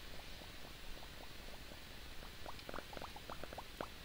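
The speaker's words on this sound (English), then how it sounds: "I'm trying to drain out this water." Water draining in the video game Starbound, a faint bubbling, gurgling patter of small pops that grows denser toward the end, with no voices.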